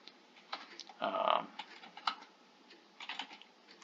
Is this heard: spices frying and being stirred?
no